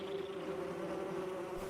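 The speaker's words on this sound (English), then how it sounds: "Alright, war wasps." War wasps in the video game Metroid Prime Remastered give off a steady, droning insect buzz, faint and unbroken for the whole moment, with no talking over it.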